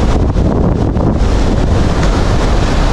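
Strong, rough ocean waves at the shore in Infanta, Quezon, a loud, steady roar of surf with heavy wind blasting the microphone, no voices.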